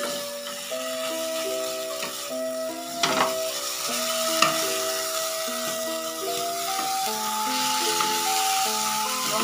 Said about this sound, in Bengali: নারকেল কোড়াটার সাথে সাথে ভালো করে মিশতে হবে